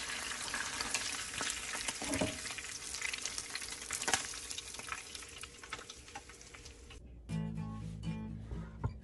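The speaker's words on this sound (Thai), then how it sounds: "บัดนี้เฮามาลงมือทอดกันเลย" Mackerel fries in hot oil in a pot, giving a loud, steady crackling sizzle with occasional pops for several seconds before the frying noise suddenly gives way to a different, tonal sound.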